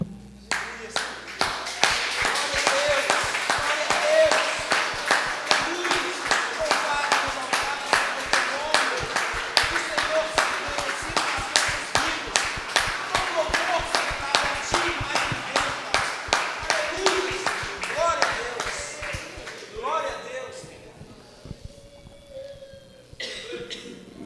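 Sustained applause from a large church congregation fills a reverberant hall, dense clapping for about twenty seconds before thinning out near the end.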